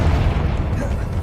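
A Confringo blast in Hogwarts Legacy: a dense, rumbling boom-like burst filling the whole moment, loud and close, with a low roar that stays steady rather than fading.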